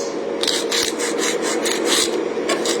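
A nail file rasps across the tip of an artificial nail, close and fairly loud, in a series of quick, evenly spaced scraping strokes with no talk.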